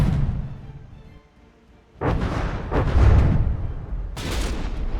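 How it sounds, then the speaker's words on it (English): Artillery shell impacts on a warship's superstructure in the naval combat game From the Depths, with sharp booming hits and crackling blasts after a quieter rumbling lead-in, repeating several times. "That's a solid hit into the center of the superstructure. Blew out a pretty big hole there."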